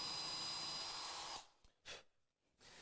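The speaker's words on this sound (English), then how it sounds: "to drill a pilot hole. I'm using a 3mm brad point bit for that." Power drill boring a pilot hole with a 3mm brad point bit into a wooden coffee table top: a steady high-pitched whine that cuts off abruptly, followed by a few brief clicks and bumps nearby.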